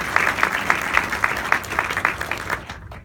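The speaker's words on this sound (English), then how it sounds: "A round of applause for the team." An indoor audience at a mayor's State of the City address in Camden applauds steadily, dense clapping at close range that starts to thin out at the end.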